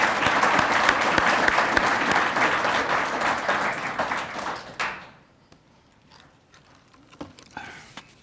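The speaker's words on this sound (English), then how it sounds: "Let's give another round of applause for our promotees." A fire department awards-ceremony audience applauds promoted firefighters, full dense clapping that holds for about four seconds before fading abruptly into quiet room sounds with a few scattered knocks.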